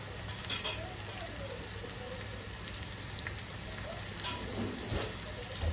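Garlic sizzles and crackles softly in oil with asafoetida and turmeric, a low steady frying hiss with a few brief louder pops.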